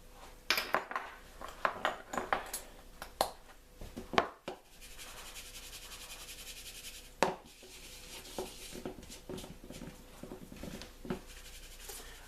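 Seasonings and sugar for a beef rib rub are mixed in a bowl, giving quiet scraping and rubbing with light taps and clinks of a utensil, close and soft.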